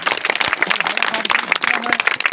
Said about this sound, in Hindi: एक बार जोरदार ताली बाबा साहब